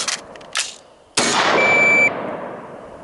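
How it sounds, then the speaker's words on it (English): Rifle fire during a drill with one shot and an emergency reload: a couple of quick mechanical clicks and clacks, then a single loud, sharp report with a ringing decay. "On target, fire 1 shot, emergency reload."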